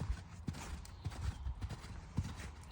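A horse canters in training, its hooves thudding in a steady rolling three-beat rhythm on soft ground, fairly close and unbroken by talk.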